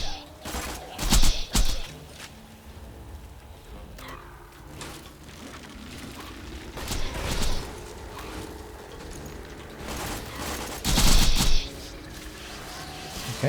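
Corrosive pistol shots fire in Borderlands, several sharp cracks spread across the scene at irregular moments over ambient game noise.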